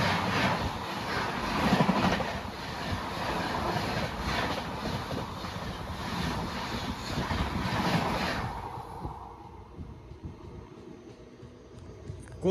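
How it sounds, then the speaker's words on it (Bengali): A train on the Howrah to Kalka line rushes past at speed with a loud, steady rolling roar and rail clatter for several seconds, then cuts off abruptly, leaving faint ambient noise. "ট্রেনটা কি স্পিডে চলে গেল"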